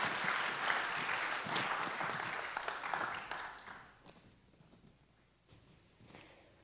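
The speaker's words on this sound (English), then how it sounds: "Let's go ahead and give God a clap offering for their ministry" A church congregation clapping during a Sunday service, a dense wash of applause that holds steady for a few seconds, then fades to scattered faint claps and room noise.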